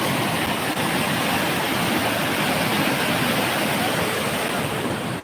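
Heavy floodwater pours over the Puluj dam in a loud, continuous roar that stays steady throughout, with no break.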